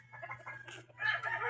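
Wild chicken clucking nearby, a short run of quick, uneven clucks rising into a louder burst over a steady low background hum.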